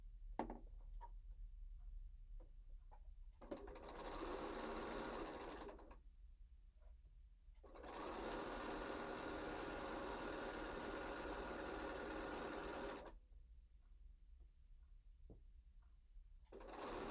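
A sewing machine stitches the borders onto a square-in-a-square pillow, with two close, steady whirring runs, a short one and then a longer one, separated by quiet clicks and fabric handling.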